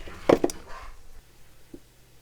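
A few quick knife chops on a cutting board as dried jalapenos are cut up: two close sharp knocks followed by a softer one, then quiet.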